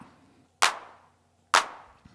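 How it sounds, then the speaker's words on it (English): Two sharp electronic hand claps from a Roland TR-909 drum machine, evenly spaced, each with a quick snappy attack and a short noisy decay, in otherwise near silence. "So that's that 909 clap, straight up from the 909"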